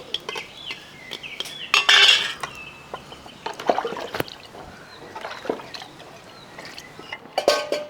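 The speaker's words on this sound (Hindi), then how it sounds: "बर्तन साफ करूं, देखती ना" Pots and cutlery clatter in a sink as dishes are washed, with scattered metallic clinks and scrapes and a louder burst of rattling near the start, all fairly close.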